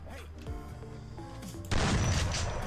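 Shotgun fire in a Roblox game: a dense, loud burst of blasts erupts partway through, following a stretch of tonal game music and effects.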